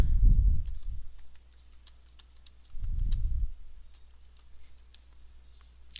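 Typing on a computer keyboard while a justification is entered into a civilian timecard system, heard as scattered light key clicks at close range. Two low thumps interrupt it and there is no talking.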